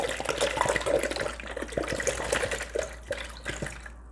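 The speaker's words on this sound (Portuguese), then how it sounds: "Despejei 1 litro de água aqui" About one litre of water is poured into a basin, making a close, continuous splashing and gurgling sound with uneven bursts that taper off near the end. No one speaks.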